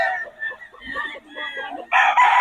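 A young rooster (stag) crows at a market in Bocaue. Its call comes up close in a broken, wavering series, followed by a sharper, louder burst at the end.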